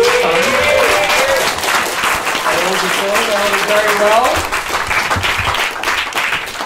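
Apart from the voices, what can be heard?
audience applause at a comedy show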